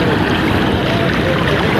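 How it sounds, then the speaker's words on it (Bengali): A boat moves along a river, giving a loud, steady rush of water and hull noise close by that stays unbroken throughout. "এখন আমরা একটু নদীর মাঝখান দিয়ে নৌকা নিয়ে ঘুরবো"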